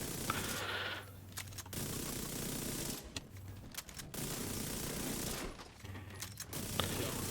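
Rapid automatic main-gun fire in a shooter game comes in dense bursts of quick crackling shots, separated by short pauses, fairly quiet overall.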